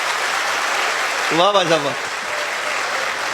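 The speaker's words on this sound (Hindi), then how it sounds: "एक बार इकट्ठे बजाओ सारे ताली, जोरदार" Loud, continuous crowd applause fills a live comedy show, steady throughout, with a voice briefly calling out over the clapping.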